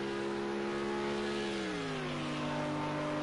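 Race car engine at the Long Beach street circuit holds a steady, loud drone, then its pitch drops and settles lower as it shifts; continuous mechanical whine with no talk.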